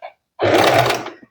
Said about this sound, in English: I'm just going to sew just a few millimeters away from the edge of the fabric